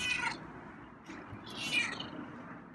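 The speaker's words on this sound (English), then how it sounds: "Is that what the meow was about?" A feral cat named Scruffy meows twice, a short cry at the start and another partway through, fairly close and clear, over a low steady background rumble with no talking.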